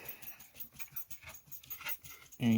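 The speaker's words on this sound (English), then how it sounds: "It's the puppy. He decided he wants to join in." A puppy makes soft, rhythmic panting and snuffling noises close by, a quick repeated pattern that ends in a brief whimper at the end, with no one talking.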